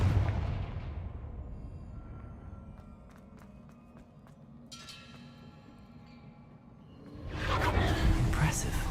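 A Confringo blasting curse goes off in Hogwarts Legacy with a fiery burst of noise midway, then a louder, sustained crackling blast near the end, over a steady low game ambience.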